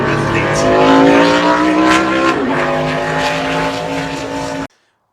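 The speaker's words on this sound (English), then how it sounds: "This is my 2010 Dodge Charger NASCAR." The 2010 Dodge Charger NASCAR race car runs with a loud, close engine roar, its pitch wavering and slowly rising, then cuts off abruptly near the end.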